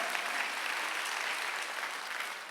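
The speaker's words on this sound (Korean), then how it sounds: "박수 한번 돌려주세요" A church congregation at a Sunday worship service claps together, a steady, dense wash of applause that holds evenly throughout with no voices over it.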